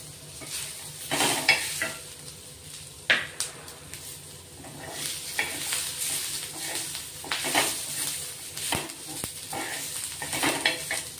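Ginger pieces and garlic cloves tossed into roasted onions for a village-style mutton masala, a soft sizzle beneath irregular stirring scrapes and metallic clinks of a spoon against the pot.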